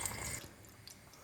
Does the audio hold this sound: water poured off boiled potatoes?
yes